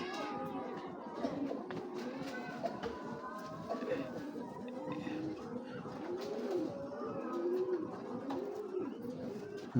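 Racing pigeons in a loft cooing continuously, several birds overlapping in rolling throaty calls, close and steady, with faint voices in the background.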